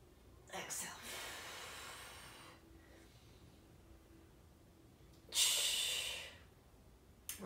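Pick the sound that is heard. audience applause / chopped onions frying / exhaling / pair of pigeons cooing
exhaling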